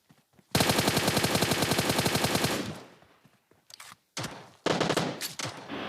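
Rapid automatic gunfire from a PUBG-style battle royale game, a long sustained burst of evenly spaced loud shots followed by a pause and then shorter bursts, close and dominant.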